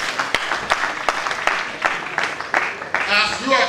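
Students at a seminary valedictory service clap together, sharp claps over a crowd wash, with talk and cheering rising near the end.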